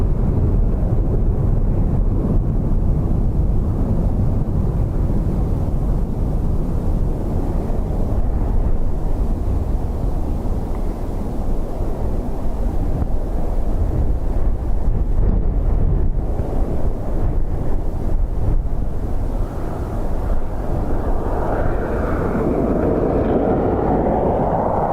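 Strong gusting wind batters the microphone at Dublin Airport, a loud continuous roar that swells and eases for the whole stretch, with no voices.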